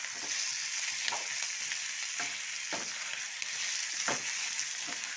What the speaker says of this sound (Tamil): தக்காளி வெங்காயம் எல்லாம் நல்லா வணங்கிடுச்சு.